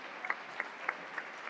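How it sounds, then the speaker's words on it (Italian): Teams and fans at an indoor futsal match applaud in a faint, thin patter with a few sharper individual claps standing out. "L'applauso"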